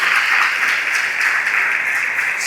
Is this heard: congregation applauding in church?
yes